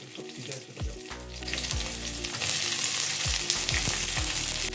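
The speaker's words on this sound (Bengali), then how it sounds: "পেঁয়াজটা হালকা একটু ভেজে নিব।" Onions sizzle in hot oil in a pan while cooking breakfast paratha, a steady crackling fry that grows louder and denser partway through, with low metallic clinks and stirring beneath.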